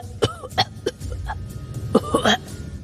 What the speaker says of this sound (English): quickly turned into a hacking cough